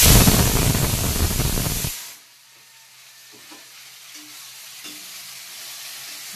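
Garlic and green chilies dropped into hot oil burst into a loud, close sizzle and hiss that cuts off after about two seconds, leaving a quiet background with a few faint clicks.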